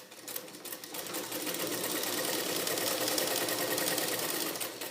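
Sewing machine stitching the lining of a blouse, a rapid continuous mechanical whir running steadily close by with no talking.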